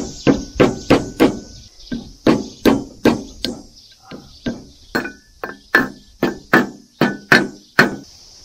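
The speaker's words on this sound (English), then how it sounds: "so I have to hammer that in." Hammer tapping a tight-fitting part into a trailer axle, a fast series of sharp metallic knocks in bursts of about twenty blows, loud and close with short pauses between groups.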